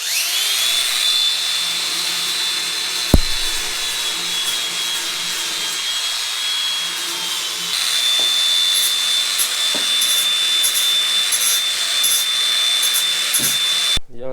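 A small angle grinder runs steadily on a farm, a loud continuous high whine with a few sharp knocks, alone without talk for about fourteen seconds.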